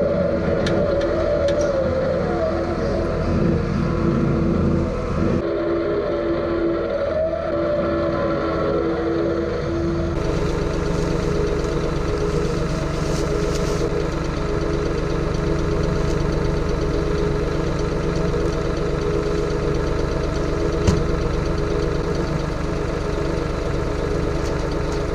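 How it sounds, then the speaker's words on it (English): Skid loader engine running on a dairy farm, a steady loud diesel drone with knocking, rising in pitch and intensity about ten seconds in and holding there alone. "I'm gonna get the skid loader"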